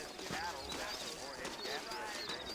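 Saddled horses clip-clop at a steady walking pace in the Red Dead Redemption video game, with continuous ambient game sound over the hoofbeats.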